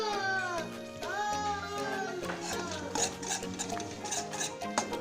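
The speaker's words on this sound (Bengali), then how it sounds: "একটু নাড়াচাড়া করে নিই মশলাটা তেল ছাড়তে দেবো" Spice paste stirred in oil in a cooking pan for a vegetarian potato, pea and paneer dish: soft scraping and sizzling under a voice and adult talk, with light clinks of the spoon.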